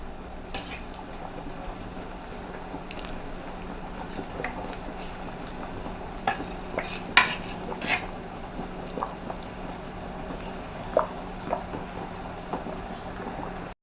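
Kerala-style fish head curry simmers in a pot with a steady low bubbling, broken by scattered metallic clinks and scrapes as a spoon ladles gravy over the fish head; no one speaks.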